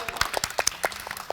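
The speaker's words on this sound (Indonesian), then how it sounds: "Tepuk tangan dulu dong." A small podcast group gives a short burst of applause, a few hands clapping in quick, uneven claps at close range.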